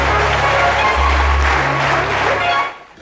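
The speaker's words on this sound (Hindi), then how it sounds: "तालियां होनी चाहिए।" A comedy show audience breaks into applause, a brief dense burst of clapping close and loud under a low hum, fading at the end.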